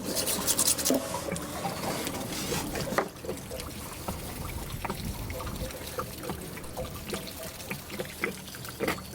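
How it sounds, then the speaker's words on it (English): Water pouring and splashing from the drain of a water heater in a Forest River Puma RV being winterized, a steady close gush with trickling and dribbling layered in, somewhat louder at the start and continuing throughout. "Just open it up and it starts pouring out."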